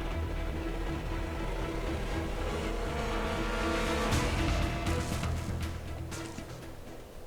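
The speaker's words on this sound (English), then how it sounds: "a black off-roader courses out of the smoke" A black off-roader drives away out of smoke in Arknights, a steady engine rumble with a rising surge midway, some sharp crackles like shots behind it, then fading into the distance.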